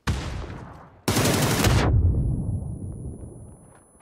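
Video game gunfire: a burst of loud gunshots cracks out, then a second heavy burst of sustained fire, each tailing off into a fading echo, close and harsh, with no talk.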